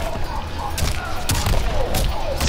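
Gunshots ring out in a Mortal Kombat 11 ranked match with Scorpion, sharp cracks and booms fired in quick bursts over a constant backdrop of game effects.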